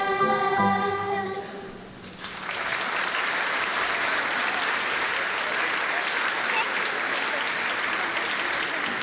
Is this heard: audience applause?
yes